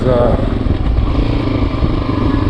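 A Yamaha XT350 motorcycle engine running after carburetor work, loud and close, with a steady, even thrum throughout.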